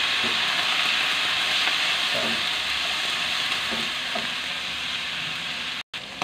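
Beef sizzles steadily in a pan as it is sautéed with bile for papaitan, a loud continuous frying hiss with faint occasional stirring knocks and a brief dropout near the end.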